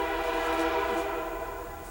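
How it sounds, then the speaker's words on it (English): A passing train sounds its horn, a loud sustained chord of stacked tones held steadily and slowly fading over a low rumble of the rails, with no speech. "there's a train going by"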